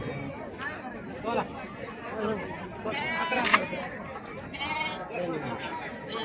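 Sheep bleat repeatedly at a livestock market in Lonand amid a busy crowd, with people talking and chattering all around at close range.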